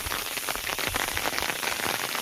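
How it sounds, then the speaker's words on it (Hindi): Rain falls steadily outdoors under overcast skies, a dense, even hiss of drops with scattered louder patters, close and continuous with no one speaking. "पूरी तरह से बारिश है।"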